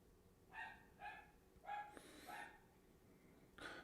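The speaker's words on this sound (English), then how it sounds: "if you hear the dog, that is the neighbor's dog." A neighbor's dog barks several times in the distance, short yips spaced about half a second apart with a longer whining note, faint against a quiet background and no talking.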